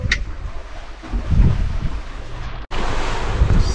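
Steady wind rushes over the microphone while waves wash against the hull of a sailboat on a beam reach in roughly 8 to 9 knots of wind, loud and continuous with no talk.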